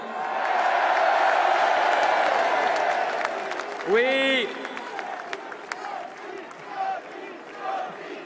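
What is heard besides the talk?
rally crowd applauding and cheering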